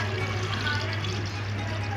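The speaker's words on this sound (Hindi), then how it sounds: "अब मैं इसमें पानी डालूंगी" Water, about 1.5 litres, is poured into a clay pot of mutton kunna with 1.5 kg of mutton, a steady close splashing pour with a low hum underneath.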